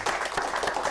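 Audience applause at a live event, a dense steady patter of many hands clapping close by, filling the whole moment without pause.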